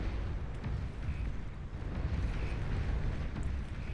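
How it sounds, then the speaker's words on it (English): Orbital cannon bombardment in the video game Beyond All Reason: continuous deep rumbling explosions roll on without pause, a dense low booming barrage with no voices. "Raining orbital bombardment from on high."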